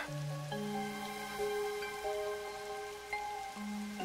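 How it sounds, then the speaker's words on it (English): Steady rain falls in the video game Master Detective Archives: Rain Code, a constant soft hiss running beneath a tonal musical score throughout. "So it's always raining here then, I guess."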